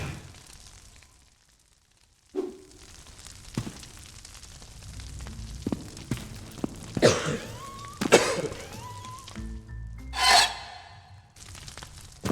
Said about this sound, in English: slight cough.